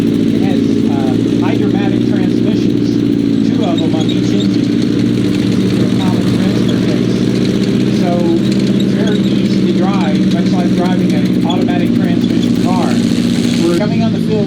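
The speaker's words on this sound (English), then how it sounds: "coming on the field now is the first American tank destroyer. This is the M3 75 millimeter mounted on a M3 half track." An M3 half-track carrying a 75 millimeter gun, the first American tank destroyer, drives onto a field. Its loud, steady engine rumble and hum continues throughout while someone talks over it.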